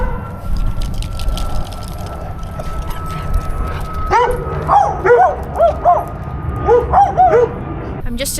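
Several small dogs yip and bark in quick, high bursts, close by, over a steady low hum of a van's surroundings, with a faint voice earlier.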